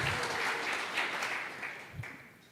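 Church congregation applauding throughout, a dense steady wash of clapping with a faint low thump near the end.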